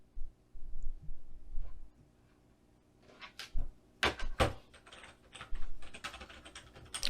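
A Free Wolf K15 one-handed mechanical gaming keyboard is handled and unboxed close by, with sharp clacks and rustling knocks in scattered bursts after a quiet start.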